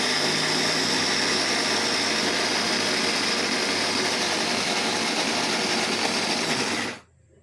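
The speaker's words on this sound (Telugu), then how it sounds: "ఆ పప్పుని మిక్సీ జార్లోకి తీసుకొని మెత్తగా రుబ్బుకోవాలి" A mixer grinder grinds soaked moong dal into a smooth batter, with a loud, steady whirring motor roar that runs unbroken for about seven seconds and then cuts off abruptly.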